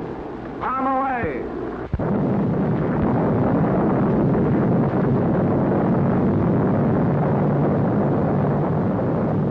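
A 1946 atomic bomb test in the lagoon at Bikini atoll sounds as a sudden sharp crack followed by a sustained, loud rumbling roar. A voice speaks just before the blast.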